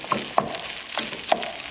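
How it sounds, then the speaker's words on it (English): Food sizzling gently in a pan after rice has been added and cooled it down, a soft, steady crackle with a few light stirring scrapes and taps. "you can tell that sizzle has gone way down since adding that rice because it's so much cooler."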